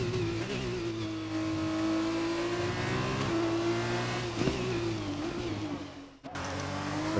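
Formula 2 race car engine in a racing video game, a loud steady high whine holding one pitch before dropping and cutting out briefly near the end, heard close with no talk over it.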